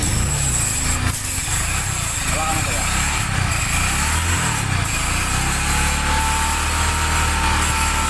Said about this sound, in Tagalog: Umaandar na yung makina niya mga kabuknoy.